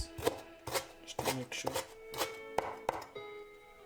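Knife chopping a bunch of fresh coriander leaves and stems on a board for Karnataka-style akki rotti, a close series of sharp, irregular thuds and taps with short pauses between strokes, no voices.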